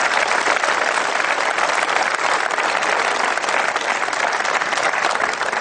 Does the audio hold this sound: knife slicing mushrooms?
no